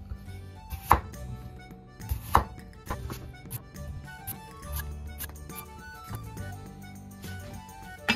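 A knife chops potatoes on a cutting board in a handful of sharp, irregular strikes, close and moderately loud, with quiet kitchen background between.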